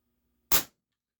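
A single sharp, crisp shot from a Daisy Precision Max air pistol pops once, loud and close, then cuts off into silence.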